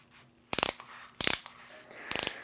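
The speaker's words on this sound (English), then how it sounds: "And you could use the ratchet." A ratchet turns a CopperKey cleaning brush inside a copper fitting, giving three short, separate bursts of quick metallic clicking, close and distinct, with quiet pauses between them.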